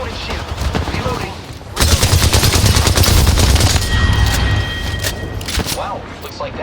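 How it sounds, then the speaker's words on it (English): Rapid automatic gunfire in the shooter game Apex Legends, dense bursts of shots that swell into a loud sustained volley before easing off, with a faint voice and a brief electronic tone under the shooting. "Whoa, getting shot at."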